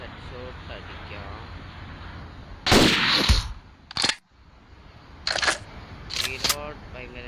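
Video game gunfire while going for a headshot: a loud, sharp shot followed by further cracking shots and mechanical clatter, set against steady game ambience with a voice talking beneath it.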